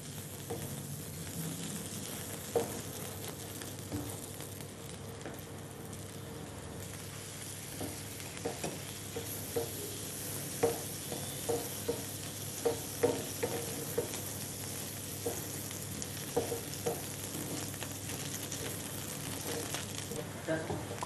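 Puffed rice and flattened rice cutlets roast in a lightly oiled pan with a soft, low sizzle, punctuated by small ticks and scrapes of a spatula turning them.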